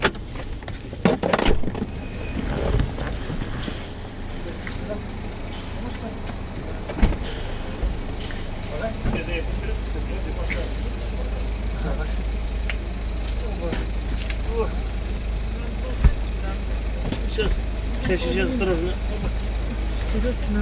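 A BMW 520d on the move, with a steady low engine and road hum filling the cabin and a few sharp interior knocks, while a person talks over it throughout.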